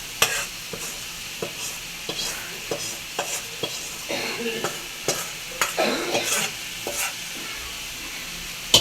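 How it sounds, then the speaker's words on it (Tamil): Hot tempering poured into a pot of dal sambar sizzles steadily, with scattered stirring clinks and scrapes of a spoon against the vessel over nearly nine seconds, close and fairly loud. "சாம்பாருக்கு வந்து தாளித்து ஊற்றிடுவோம்ப்பா"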